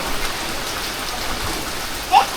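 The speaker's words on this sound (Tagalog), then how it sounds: "Ulan na lang, ulan!" Heavy, unceasing rain pours down in a dense, steady hiss that fills the whole span, loud and close, with a brief sharper knock near the end.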